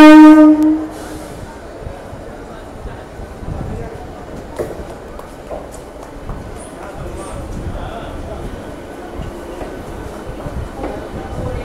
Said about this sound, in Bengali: ট্রেন আমাদের 13 নম্বর প্ল্যাটফর্মে চলে এসছে